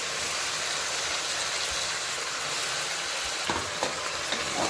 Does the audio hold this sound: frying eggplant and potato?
yes